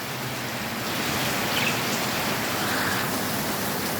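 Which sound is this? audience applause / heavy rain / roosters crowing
heavy rain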